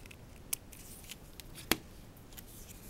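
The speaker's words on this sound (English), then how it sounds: "it's approximately a 45 degree angle that you want to cut them at" Scissors snipping paper at an angle while making a tea bag mini album, a couple of sharp isolated cuts near 0.5 and 1.7 seconds over quiet room background.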